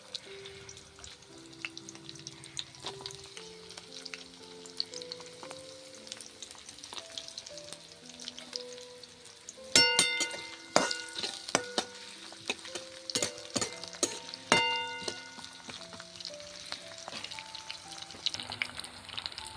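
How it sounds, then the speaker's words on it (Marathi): Onion and peanuts frying in hot oil, a quiet steady sizzle that turns into louder bursts of crackling and popping partway through, alongside faint ringing tones. "मग त्यात सर्वात आधी टाकायचा कांदा."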